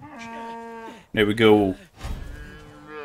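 Cattle in Far Cry 5 low a long, harmonic moo up close, answered by a second moo after a pause, with a player's voice talking over the end.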